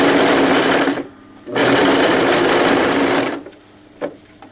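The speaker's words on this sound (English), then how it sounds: "I'm going to do it with a zigzag stitch right in that seam allowance" Sewing machine running a zigzag stitch along a seam allowance, sewing longies: two loud, steady bursts of whirring stitching separated by a short pause, then quieter handling sounds.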